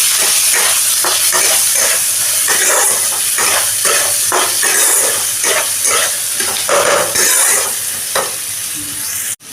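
Chopped onion and green chilli sizzle steadily in a wok with cumin seeds and a dried red chilli, a close, continuous frying hiss broken by repeated stirring scrapes, with no talk over it.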